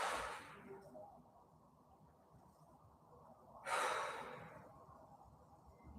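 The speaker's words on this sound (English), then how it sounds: "2 big deep breaths." Two deep, breathy exhales during a stretching and mobility routine, one at the start and a second a few seconds later, close and fairly soft, with a quiet room tone between them and no talking.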